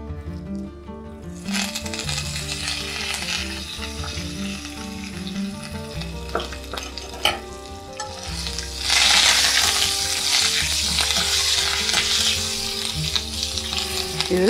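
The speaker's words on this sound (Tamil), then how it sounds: "அப்பளம் எல்லாமே பொரிஞ்சுடுத்து தெரியறதப்பா, நிலக்கடலையும் வறுபட்டுடுத்து." Curry leaves, peanuts and papads frying in hot oil, a steady loud sizzle that flares up sharply partway through, with occasional stirring clinks against the pan.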